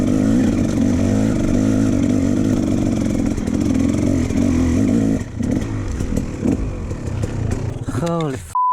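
A dirt bike engine with a faulty clutch runs at a steady, loud idle-to-mid throttle, then sputters and fades as it dies, ending in a brief electronic beep.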